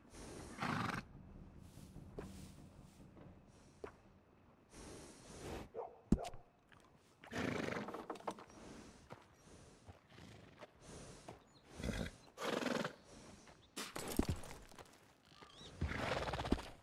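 Horses in the video game Red Dead Redemption 2 give repeated neighs and snorts mixed with scattered hoof clops. The sounds come in irregular bursts over a quiet background, with no talking.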